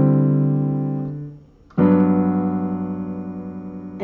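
Beginner piano chords from a song, with a sustained chord fading out, a short pause, then a new chord struck firmly and left ringing, played alone.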